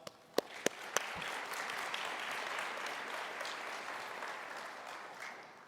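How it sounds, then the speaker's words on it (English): A crowd at a professional development forum applauds steadily for several seconds, a dense wash of clapping that begins with a few sharp, distinct claps and then holds at an even level. "Can we get a round of applause?"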